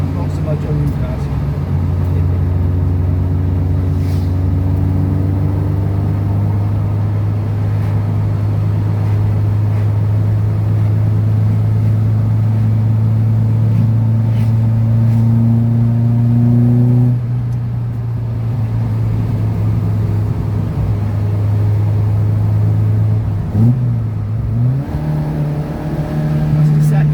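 A Ford Escort MK1 with a carburetor engine drones loud and close from inside while driving, its revs holding steady, then dropping and climbing again with a brief hesitation near the end.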